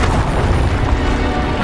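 An Incendio fire spell blast in Hogwarts Legacy erupts as a loud, dense rumbling boom that roars steadily with no break for under two seconds.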